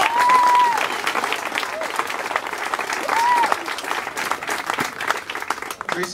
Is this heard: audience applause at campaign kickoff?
yes